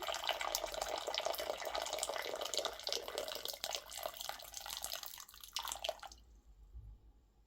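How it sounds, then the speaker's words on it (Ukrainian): Boiling water pours over a raw egg in a container, a continuous splashing, trickling stream for about six seconds before cutting off to near silence, close and moderately loud. "Сире яйце відразу на 2-3 хвилини заливаємо кип'ятком."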